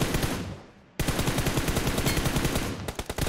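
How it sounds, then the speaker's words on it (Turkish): Video game gunfire: a rapid machine-gun burst that fades, then a sudden loud sustained stream of automatic fire, with a few separate shots at the end, close and dominant, with no talk. "Gerçek adam vuruyorlar."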